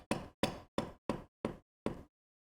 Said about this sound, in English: I'm going to move over my fence by 8 thousandths of an inch using my mallet.